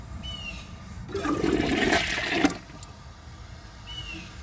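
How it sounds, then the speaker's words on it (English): A Glacier Bay high-efficiency toilet flushes once, a loud rushing gurgle of roughly a second and a half that cuts off abruptly, with a quiet hiss of the tank refilling before and after. "wait for the tank to fill up, which is going to be very fast, and then give it another flush"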